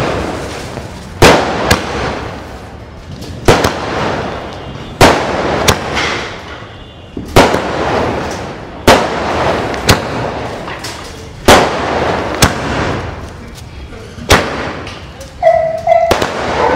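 Diwali fireworks from a 30-shot cake burst in different colors, loud sharp bangs every second or so, each followed by crackling and fizzing, with a faint voice near the end.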